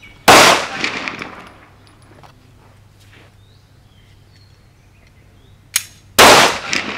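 Two sharp gunshots at a shooting practice during a self-defence course, one loud report near the start and another near the end with a faint click just before it, quiet range ambience between.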